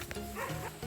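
A dog barks a couple of times somewhere ahead along a mountain footpath, fairly faint and distant amid outdoor ambience, with no talking.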